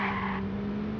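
A car in the Watch Dogs 2 video game drifts with a short, loud tire squeal over a steady engine drone, the screech sharp at first and fading within a second.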